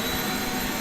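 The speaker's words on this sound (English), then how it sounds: "I'm gonna hit the vacuum" A shop vacuum runs steadily during woodworking and sanding, a loud continuous roaring whoosh close by with no break and no speech.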